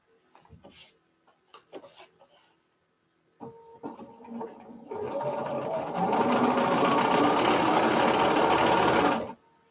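Sewing machine starting with a few scattered clicks and taps, then running steadily at speed for several seconds with a dense mechanical whir before stopping, close and alone.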